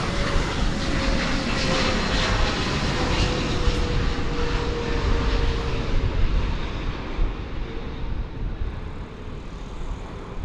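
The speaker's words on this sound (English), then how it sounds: "we're going to swing around real quick now to catch Japan Airlines Flight 12 from Haneda in Tokyo" Japan Airlines Boeing 777 on flight 12 from Haneda at DFW Airport, a loud, steady jet engine roar with a faint tonal whine, easing slightly toward the end, no voices over it.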